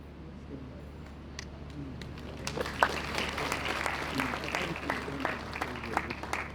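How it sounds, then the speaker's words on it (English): An audience at a university inaugural lecture breaks into applause, starting sparse and swelling into steady clapping from a crowd over a low hum. "I was wondering why you are now clapping"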